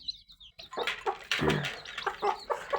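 Free-range native country hens cluck to their chicks while feeding on scattered rice, a close burst of fowl calls with some wing flapping, heard alone without speech.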